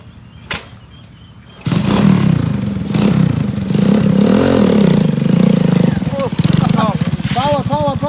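A repaired motorbike in rural Laos sputters to life after a short click, then settles into a loud, steady engine drone with rising revs, as a voice speaks over the close engine in the final seconds.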